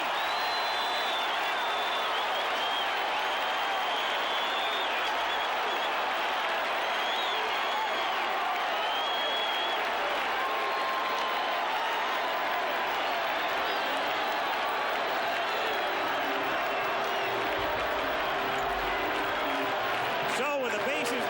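Stadium crowd roaring and cheering at the 1985 World Series baseball game as ball four is called, a sustained loud wash of voices with a commentator talking over it.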